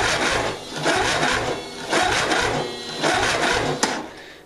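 Scotts lawn tractor engine cranking over without starting, a loud rhythmic starter churn repeating in roughly one-second cycles, with a brief sharp click near the end.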